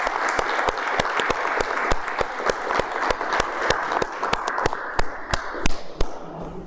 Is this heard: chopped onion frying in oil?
no